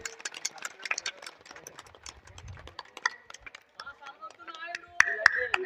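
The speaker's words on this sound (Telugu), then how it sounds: "ఈ యొక్క రిబ్బన్ కటింగ్ చేయడం జరుగుతుంది అందరూ క్లాప్స్ దయచేసి" An audience claps at a ribbon cutting opening a Veera Brahmamgari drama in Penchikalapadu village, Gattu mandal. The claps come scattered and irregular, some sharp and close, with people talking throughout.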